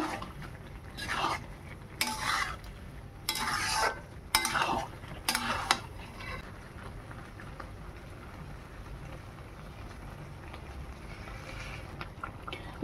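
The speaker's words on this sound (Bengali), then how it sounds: "আলু দিয়ে একটু ভালো করে কষে নেব।" Fried potatoes being stirred into goat lung curry in a pan, with several scraping bursts of spoon against metal in the first half, then a quieter simmering hiss with no talking.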